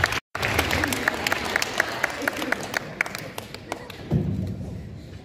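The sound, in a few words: audience applause for a state trooper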